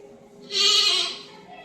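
A single goat or lamb bleat, loud and close, rises abruptly and holds for about half a second before fading, alone against a quiet background.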